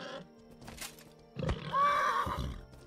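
A horse in the online fantasy game Mortal Online 2 lets out a loud whinny, rising and wavering, after faint earlier game sounds and a soft thud, heard alone and close.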